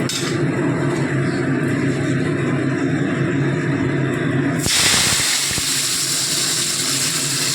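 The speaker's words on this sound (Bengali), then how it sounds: "গোটা গরম মশলা ফোড়ন দিয়ে পেঁয়াজটাকে ভেজে নিচ্ছি।" Onions frying in oil with whole garam masala give a loud, steady sizzle up close, and the hiss grows sharper and brighter partway through as more goes into the pan.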